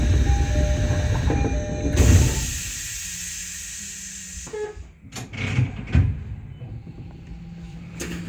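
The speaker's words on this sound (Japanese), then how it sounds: "ドアが閉まります。" A Tokyo Metro Hibiya Line train's doors slide shut with a clunk, then the carriage rumbles and whines as it pulls away, with rail noise and a few knocks rising again near the end.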